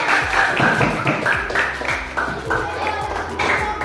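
Brief, uneven clapping from a small group of students at a school project presentation, close and loose in rhythm, with voices talking over it.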